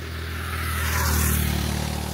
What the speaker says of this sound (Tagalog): Mga nagmumotor, papasok na yan sila sa trabaho.